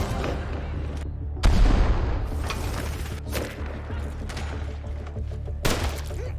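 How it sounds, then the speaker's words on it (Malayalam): Gunfire from a World War II sniper film: several loud booming shots and blasts burst out over a steady rumbling war-scene backdrop, with sharp cracks standing out clearly. "പക്ഷേ പെട്ടെന്നാണ് ദൂരെ നിന്ന് വെടിയുണ്ടകൾ അങ്ങോട്ടേക്ക് പാഞ്ഞെടുത്തത്."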